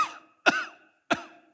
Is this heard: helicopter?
no